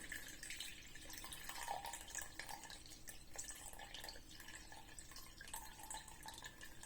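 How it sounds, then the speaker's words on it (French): Water poured from a container to feed a sourdough starter, a soft, uneven trickle and splash in a quiet kitchen, fairly faint and with no talking. "Je vais prendre d'abord l'eau, donc j'utilise 200 millilitres."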